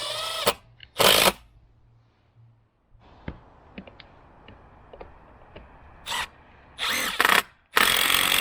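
A power drill drives screws into a wooden fence post during a broken fence repair, with loud close bursts of whirring and grinding broken up by quieter handling clicks and rattles.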